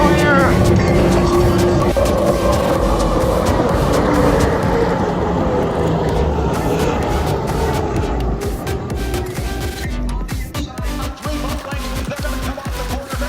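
Hydroplane racing boats at the Guntersville Hydrofest roar loudly and continuously around the course, a dense engine drone that stays strong throughout, with a race commentator talking over it.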